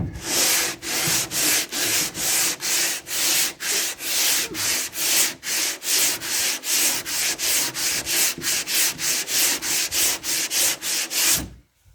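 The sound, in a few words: hand sanding car body filler with a sanding board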